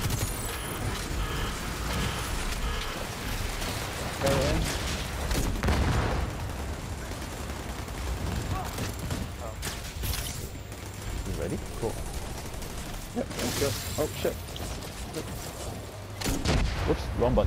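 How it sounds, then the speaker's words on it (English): Grenade launcher shots and explosions in The Division 2, with heavy booming blasts and gunfire-like bursts rolling through a dense, noisy firefight while a player talks over the action. "I shot it with my grenade"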